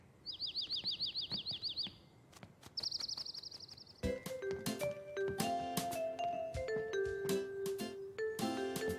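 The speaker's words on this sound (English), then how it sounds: "Look! A bird!" Bright, rapid bird chirps in quick repeated bursts in a children's cartoon, followed by a light musical melody with plucked notes and chimes.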